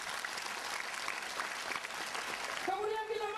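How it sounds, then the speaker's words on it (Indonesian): Congregation clapping steadily throughout a church revival service, a dense continuous wash of many hands at close range, with a voice speaking over the end as the applause carries on. "Tepuk tangan untuk Tuhan, saudara."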